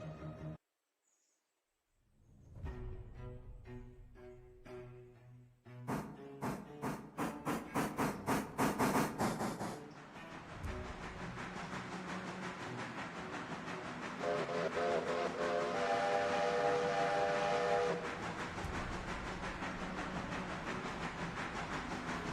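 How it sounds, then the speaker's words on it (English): Steam train in a video game, loud puffing chuffs and repeated whistle-like bursts building into a steady hissing rumble, with game music playing throughout. "Should really have this other train moving."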